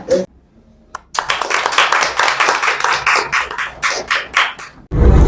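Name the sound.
audience clapping to welcome the CEO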